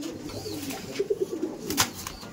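Madras pigeons in a loft give a brief run of soft, low coos close by, a few throaty calls in quick succession.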